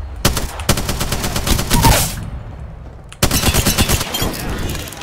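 Loud rapid automatic gunfire from the video game Apex Legends, two long sustained bursts separated by a brief pause, close and dominant.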